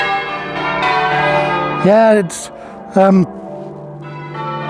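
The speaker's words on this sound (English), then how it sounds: "lovely bells." Church bells ring in the town of Warminster, a sustained layered peal of tolling tones, while a person says a few words and other voices briefly sound.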